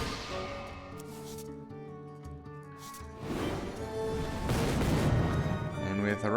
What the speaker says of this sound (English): we're about to shoot a lot. Oh, just an awful lot of missiles